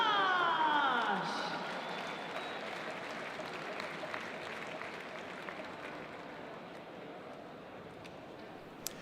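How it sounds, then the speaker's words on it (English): Applause at a Saturday night party during a London three-day event: a loud burst of clapping at the start that quickly fades into a steady, quieter crowd murmur. "A big round of applause for Josh!"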